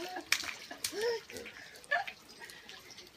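Rainwater splashes as a dog plays in it outdoors during a rain shower: a few light, irregular splats and sloshes, fairly close, mixed with rain noise, while a person talks nearby.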